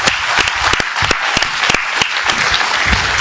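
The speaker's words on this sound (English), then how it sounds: "Round of applause to our panelists here." Audience applause for the panelists at the close of a safety forum roundtable, a dense, loud burst of many hands clapping with sharp individual claps standing out, steady throughout.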